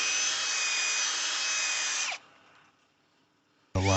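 A power drill polishing a plastic car headlight during restoration whines loud and steady, cuts off and spins down into near silence, then starts again abruptly.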